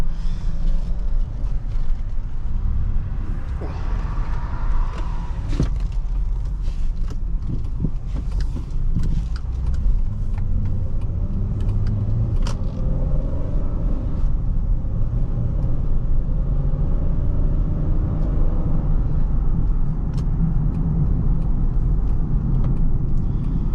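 A 2005 Honda Pilot EX-L accelerating on the road, heard from inside as a steady low engine and road rumble that holds evenly, with occasional faint cabin rattles.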